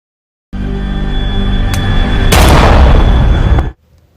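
Gunfire from a marine firing his own weapon in a film scene: a loud, sustained roar of shots lasting about three seconds, with sharp cracks punching through, then cutting off abruptly.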